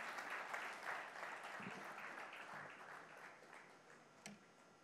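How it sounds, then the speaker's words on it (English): Applause fills a hall at an awards ceremony as an awardee is congratulated. It is quiet and distant, a broad, steady patter that slowly fades, with a couple of stray thumps. "Let's have a big round of applause"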